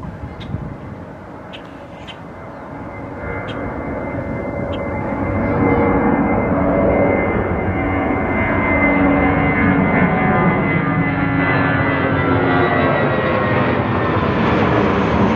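An airplane landing at Ronald Reagan Airport, heard from Gravelly Point Park, roars as it approaches. The sound swells from a distant hum to a loud, sustained engine rush, and no one speaks over it.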